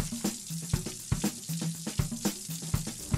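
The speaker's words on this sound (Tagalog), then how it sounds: "Una munang igisa ang sibuyas at bawang." Onion and garlic sautéing in a pan, with a soft sizzle under repeated sharp clacks and scrapes of stirring at a fairly steady rhythm.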